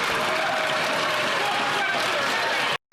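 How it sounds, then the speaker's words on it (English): Members of parliament break into a dense, steady patter of clapping that fills the chamber at a moderate level for a few seconds before cutting off abruptly, with a murmur of voices mixed in. "Once in a blue moon, they get up and they clap"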